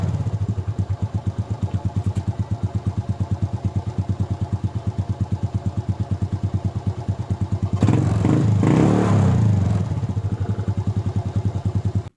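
A Suzuki Smash 110 motorcycle engine, freshly filled with ZIC 10W-40 fully synthetic oil, idles close by with a steady, rhythmic thumping. About two-thirds of the way through it briefly revs louder, then settles back to idle.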